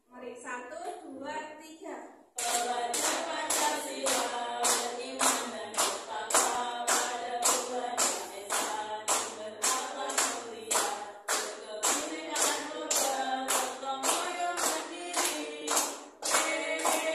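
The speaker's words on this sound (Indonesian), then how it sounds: "Bersama-sama sambil tepuk tangan." A group of schoolchildren and a teacher sing an Indonesian Pelajar Pancasila song while clapping hands in a steady, regular beat, sharp claps repeating about once a second over the singing after a short spoken lead-in.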